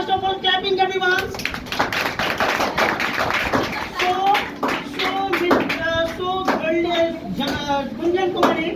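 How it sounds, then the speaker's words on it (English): Classroom students clap in a burst of sharp, overlapping hand claps, mixed with many young voices calling out and chattering throughout. "today first of all clapping everyone"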